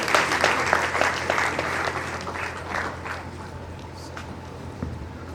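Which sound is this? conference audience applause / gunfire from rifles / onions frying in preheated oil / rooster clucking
conference audience applause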